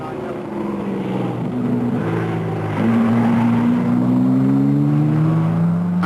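Racing cars at the 1955 Le Mans race, including a little twin-boom Nardi with a 730cc engine, with loud sustained engine drone and shifting pitch as cars accelerate, heard under a voice speaking.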